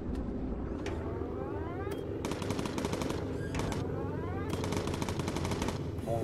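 Bursts of machine-gun fire from a bomber's gun turret in the WWII flight game Bomber Crew, several rapid rattling volleys repeating over a steady droning engine bed, loud and close.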